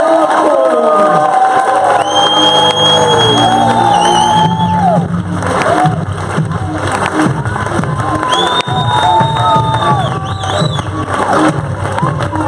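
Large audience at a chiropractic presentation cheering, whooping and clapping loudly and continuously, with music and an amplified announcer's voice over the crowd noise.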